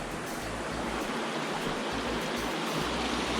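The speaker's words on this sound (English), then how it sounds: "the water is flowing quickly" Fast-flowing stream water on the Bruce Trail's Toronto section, running among rocks near a footbridge, gives a steady, close, broadband rush that holds constant throughout with no voices.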